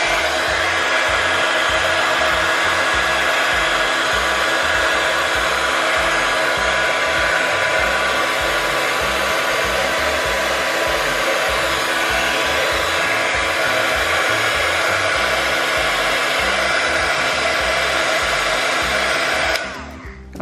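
Hair dryer blowing hot air over alcohol ink, a loud, steady, continuous whooshing whir with a faint high whine that runs unbroken for about twenty seconds before cutting off at the end.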